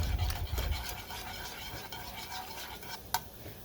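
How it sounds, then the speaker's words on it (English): A whisk scoops small dough balls of roux into a watery sauce in a pan, making close, soft scraping and stirring with occasional light metallic clinks against the pan, and no speech. "I have these like little dough balls that I'm going to scoop up with my whisk, and I'm going to add to my sauce over here"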